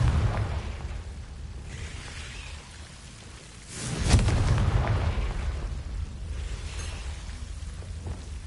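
Fiery blast of the Confringo explosion spell in Hogwarts Legacy, a sudden loud burst around the middle followed by a rumbling, crackling decay over a noisy low background, with no talk.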